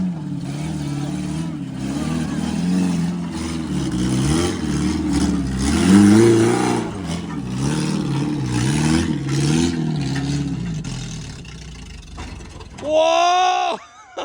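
An off-road vehicle engine on a season-opening wheeling trip growls and revs in rising and falling surges up close, with people talking over it and a sharp shout near the end.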